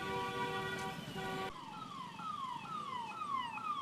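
An ambulance siren wails in heavy traffic on a main road, loud and continuous. A steady two-tone pattern changes to a rapid repeating falling sweep partway through.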